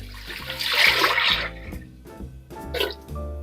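Water poured into a pot for a turkey brine, a close gurgling splash that swells then eases, with a second brief burst of sloshing near the end.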